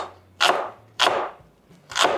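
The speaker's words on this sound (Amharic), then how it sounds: "በቅድሚያ እንግዲህ ሽንኩርቱን እንከትፋለን።" Knife chopping onion slices on a board, three crisp evenly spaced chops, close and clear with quiet pauses between.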